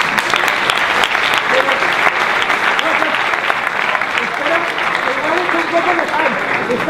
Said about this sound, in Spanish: Un aplauso para Zugasti.